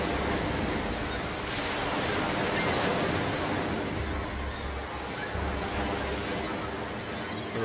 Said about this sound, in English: The waves are not that loud.